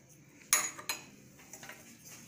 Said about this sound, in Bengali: নুনটাকে ভালোভাবে মিশিয়ে নিচ্ছি।